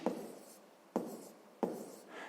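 Pen strokes on paper while writing out a math calculation, three short scratchy bursts close up, each fading quickly, with no voice over them.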